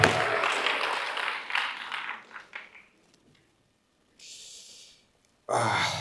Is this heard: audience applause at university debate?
yes